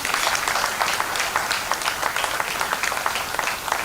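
Applause from an audience at a university annual lecture, a dense, steady wash of clapping that fills the room evenly without pause.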